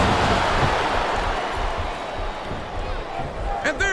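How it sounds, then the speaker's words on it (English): A capacity crowd in a wrestling arena roars and murmurs in a continuous dense wash, with a few thuds and claps rising from the noise and a commentator talking over it. "This capacity crowd is making their opinions known tonight."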